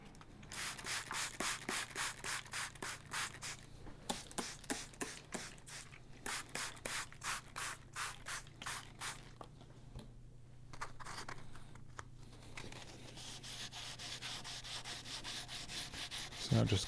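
Sanding block with 400 grit paper rubs the refinished headstock of a Gibson ES335. About two dozen close, steady, rhythmic scrubbing strokes play alone, with a short pause partway through and softer rubbing near the end.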